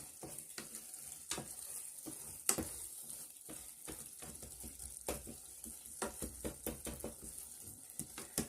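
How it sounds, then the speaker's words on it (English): Egusi soup is stirred in a pot, giving a busy, uneven run of close scraping and clicking strokes against the pot over a soft sizzling bed, with no talking. "So what you do now, you stir them. They'll mix thoroughly."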